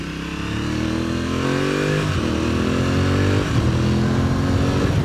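The 660cc parallel twin engine of an Aprilia Tuareg 660 motorcycle runs loudly and close, its pitch climbing in rising revs, dipping, then pulling up again through gear changes.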